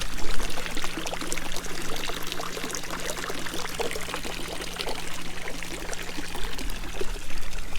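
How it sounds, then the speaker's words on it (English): Water from a second fountain feature in a garden pond trickles and splashes continuously at close range, over a faint steady hum. "I added a second water feature."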